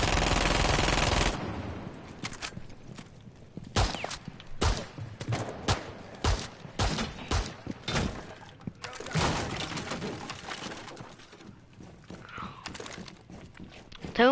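Rapid bursts of gunfire from a video game weapon, the second gun, crackling in quick repeated volleys with short gaps between them, loud and close, with a voice talking in the background.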